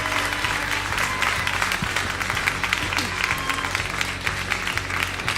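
A large audience at a 2013 world championship competition applauds a contestant from the United States, dense continuous clapping that stays loud and even throughout, with a low background hum beneath.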